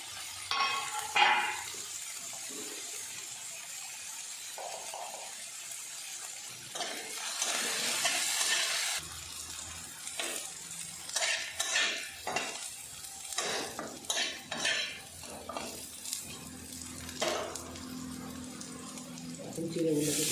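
Green chillies and curry leaves hit hot oil for chira, giving a loud sizzle and spatter, followed by stirring and utensils scraping the pan in a home kitchen while someone talks throughout.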